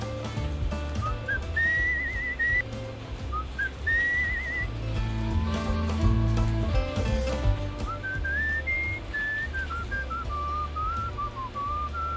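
Whistling in Where The Water Tastes Like Wine: a clear, melodic tune in wavering rising and falling phrases, carried over a low, steady background of music.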